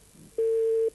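A telephone line tone sounds once, a steady pure beep lasting about half a second, clear and alone over faint line hiss.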